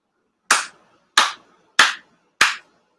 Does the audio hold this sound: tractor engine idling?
no